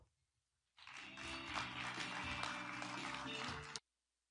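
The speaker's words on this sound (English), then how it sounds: "Let's give them a round of applause." Audience applause fills a conference hall at a Reuters NEXT policy and business event, a steady, full burst of clapping lasting about three seconds before stopping abruptly.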